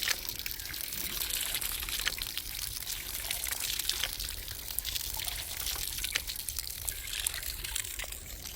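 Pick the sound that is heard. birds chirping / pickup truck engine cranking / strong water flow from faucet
strong water flow from faucet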